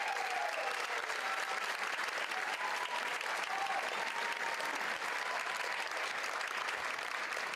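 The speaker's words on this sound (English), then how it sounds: "let's give another applause for Dan Creel and Rachel Smith" Audience applause for ballroom dancers at a local dance competition, a continuous crowd of clapping hands heard at moderate distance, even and unbroken from start to finish.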